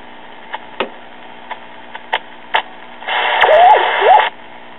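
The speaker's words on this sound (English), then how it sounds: "tune a little transistor AM radio to around 700 kilocycle mark, place it right up next to the chassis" A small transistor AM radio held next to a 1939 Emerson portable tube radio chassis crackles with scattered clicks and pops, then a burst of static with a warbling, wavering tone as the dial sweeps across the broadcast band.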